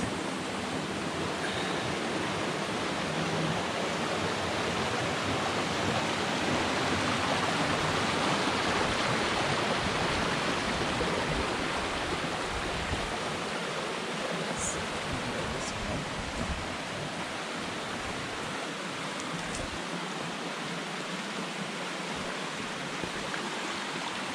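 A mountain stream pours over a smooth, worn rock chute into deep pools, a steady close broadband rush of water that holds constant throughout with no voices.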